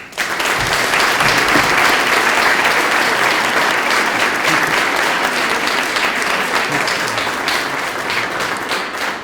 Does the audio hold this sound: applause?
yes